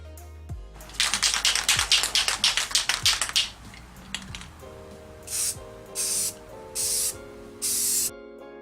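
An aerosol spray paint can puts a coat on a BK1 engine block, first as a rapid run of short hissing bursts, then as four separate longer sprays, close and loud with no talk.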